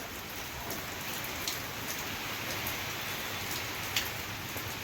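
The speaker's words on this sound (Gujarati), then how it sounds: "જોરદાર ચાલુ વરસાદ" Heavy rain pours down steadily, drumming on a surface nearby with a dense, constant hiss and a few louder drops.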